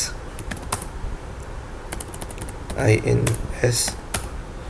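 Python code is typed on a computer keyboard in rapid, uneven bursts of close key clacks, with someone talking over the typing.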